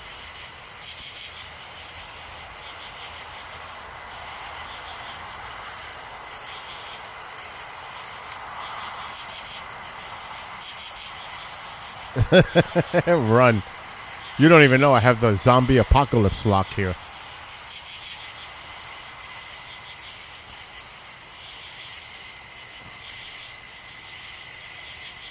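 Crickets chirp at night in a steady, high, continuous drone that runs through the whole stretch, with people talking briefly in the middle.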